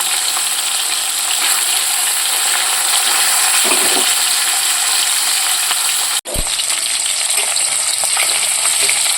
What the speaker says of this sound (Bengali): এদিকে মাছ ভাজা প্রায় হয়ে এসেছে